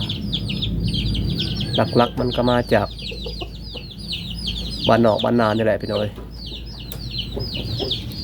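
Burmese chickens cluck and call in a rural village yard, with repeated bird chirps scattered throughout while someone talks over them in bursts.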